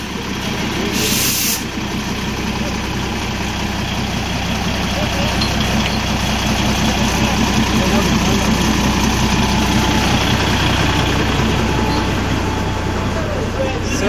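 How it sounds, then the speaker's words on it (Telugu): The diesel engine of the Darjeeling toy train idles steadily at close range, a constant low rumble with a brief hiss near the start. "ఇక్కడ మేము బుక్ చేసిన ట్రైన్ వచ్చేసి డీజిల్ ఇంజన్ ట్రైన్"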